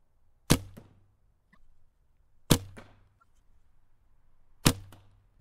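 Bow fitted with a new string and string silencers is shot three times, each release a sharp thud with a short low hum, spaced about two seconds apart, fairly quiet and alone.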